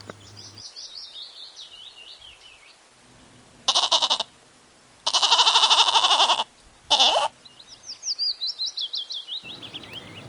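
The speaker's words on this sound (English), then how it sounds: "G for goat." A goat in a children's alphabet rhyme, bleating loudly in several wavering, tremulous bursts of varying length, with high chirping bird calls trilling at the start and end.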